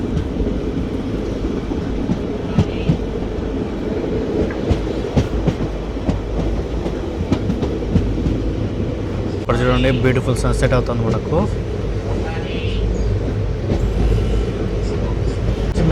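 A passenger train runs steadily after leaving Nadikudi junction, its continuous rumble and clickety-clack filling the cabin, with a louder rattling stretch near the end while someone talks throughout.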